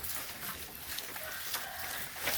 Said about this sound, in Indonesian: Selamat menikmati kambing-kambing, lihat kambing-kambingnya Mas Joko Ternak.